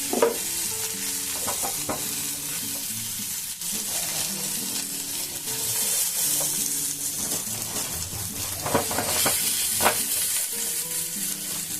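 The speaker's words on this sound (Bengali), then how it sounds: "এটাকে একটুখানি এপিট ওপিট করে ভেজে নিতে হবে।" Bread slices frying on a pan for pav bhaji with bhaji and pav bhaji masala, a steady loud sizzle with spatula scraping and stirring clatter throughout, no talking.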